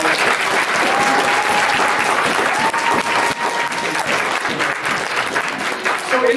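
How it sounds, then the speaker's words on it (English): An audience at a cosplay contest during a convention applauds, dense steady clapping with scattered whistles, loud and sustained throughout. "Please give them a round of applause."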